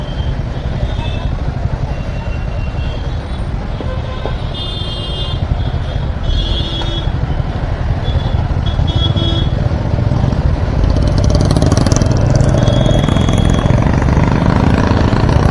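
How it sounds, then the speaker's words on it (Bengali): Heavy Delhi traffic jam on a road under construction: motorcycles and cars idle and rumble in a continuous dense engine drone with occasional horn-like tones, steady and close throughout. "কলকাতার জ্যামকেও হার মানিয়ে দেবে এই দিল্লির জ্যাম।"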